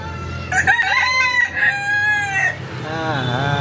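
A rooster crows loudly and close by, followed by hens clucking and squawking nearby.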